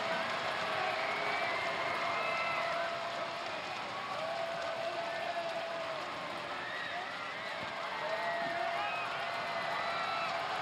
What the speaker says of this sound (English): the crowd trying to get him off his game on this free throw